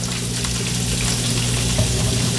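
Garlic and onion frying in margarine in a pan where chicken was just cooked, a steady close sizzle over a constant low hum, with no talking.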